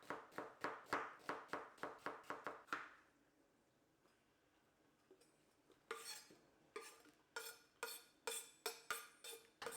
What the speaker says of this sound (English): Take 2 medium-sized onions and chop them up.